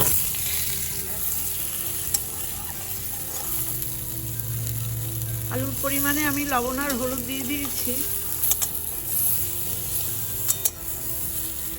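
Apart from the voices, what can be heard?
boiled potatoes frying in mustard oil in a wok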